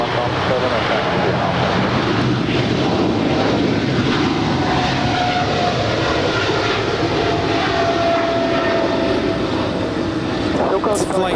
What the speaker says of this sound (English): now we have the DHL 777 heading to Seattle